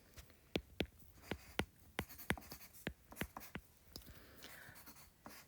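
A pen writes fractions by hand, tapping and scratching in short uneven strokes, a dozen or more crisp ticks close by and quiet, with no one speaking.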